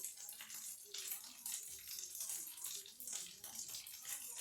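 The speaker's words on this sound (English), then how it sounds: "Let me rinse my fingers a little bit." Running tap water splashes steadily over fingers in a home kitchen, a close, soft rushing that shifts slightly as the hands move under the stream.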